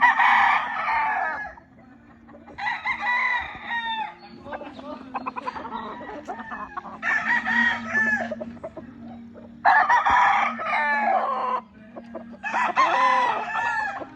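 A Gilmore hatch gamefowl rooster crows loudly and close, about six full cock-a-doodle-doo calls in a row separated by short gaps, with softer clucks and low farmyard noise in between.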